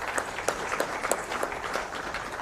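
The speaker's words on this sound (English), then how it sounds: "This deserves another round of applause" An audience breaks into applause at a memorial lecture, with dense, steady clapping from many hands filling the hall at a fairly close distance.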